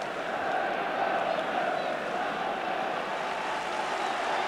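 A football crowd of about 45,000 at an FA Cup semi-final between QPR and West Bromwich Albion applauds Albion, giving a steady, distant wash of clapping and crowd roar with no distinct individual sounds.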